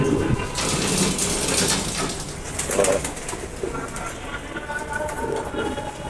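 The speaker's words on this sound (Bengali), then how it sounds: "এইখানে আমার বিডার কবুতরগুলো, যেগুলো দিয়ে আমি ডিম বাচ্চা করি সাধারণত।" Pigeons in a breeder loft for racing birds coo and flutter steadily, with some speech-like voices and a rumbling background that may come from a passing train.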